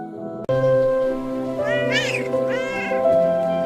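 A cat meows loudly up close, a couple of drawn-out rising and falling calls over a steady tonal background hum.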